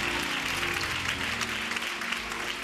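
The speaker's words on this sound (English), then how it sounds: "Let's give him a hand all the way from Baltimore, Maryland." A church congregation at Greater Deliverance Temple claps together in a full, sustained round of applause, with a low steady tone humming underneath throughout.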